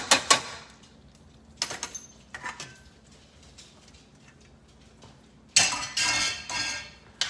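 Beef, beer and bacon pasta stirred into sauce in a pot: a few sharp utensil clinks and scrapes, close by, in short bursts separated by quiet stretches.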